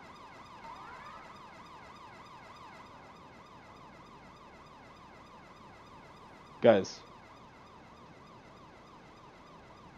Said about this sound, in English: turn your siren on then off.